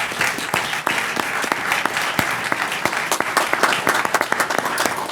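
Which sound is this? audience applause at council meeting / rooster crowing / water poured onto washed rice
audience applause at council meeting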